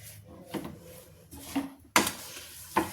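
Spoon stirring a homemade carrot and green chili pickle in a pot, with four or five separate scraping, knocking strokes against the metal, close and moderately loud, with no talking.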